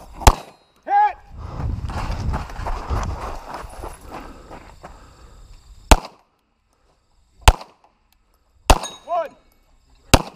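Sharp gunshots crack out at a 2-gun match as shooters hit barrel targets: four separate reports over several seconds after a stretch of rumbling noise, each followed by a brief ringing clang from the struck target.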